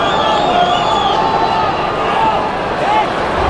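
A stadium crowd at a 2007 Rugby World Cup pool match between Scotland and Romania murmurs and stirs in a sustained roar, with a commentator talking over it.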